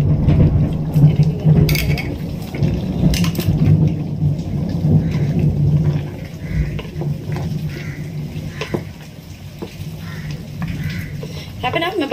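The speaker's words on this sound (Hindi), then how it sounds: "आज पता नहीं बरसात जो बहुत हो रही है, देखिए आवाज भी आ रही है कितनी जोर जोर से।" Heavy rain pours steadily throughout with low rumbling that fits thunder, a dense loud wash of noise during a power cut at home while cooking; a voice may be faintly present.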